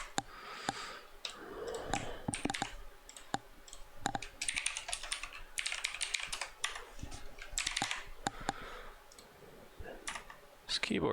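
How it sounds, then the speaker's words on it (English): Rapid typing on a computer keyboard during a plugin-building live stream, with dense bursts of clicky keystrokes close to the microphone, occasional pauses and a sigh, and no speech over the keys. "This keyboard doesn't like me hitting too fast."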